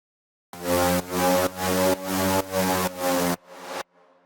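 Synth lead preset with pitch bend automation, playing a run of about six loud, sustained buzzy notes in steady rhythm, then a quieter note and a fading tail, with no voices.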